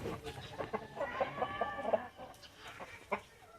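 A hen clucks in a short run of soft, repeated calls, fairly close, against faint background noise and a brief voice.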